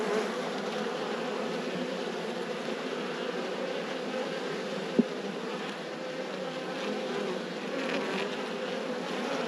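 Honeybees hum steadily and softly around an open hive during a late-season inspection as winter approaches, a continuous close buzz with one faint click partway through.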